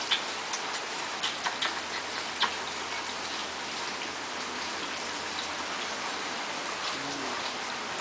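Steady rain patters down outdoors in a neighborhood where children play in puddles, a dense even hiss with a few sharper drip ticks near the start, continuous and moderately soft with no voices.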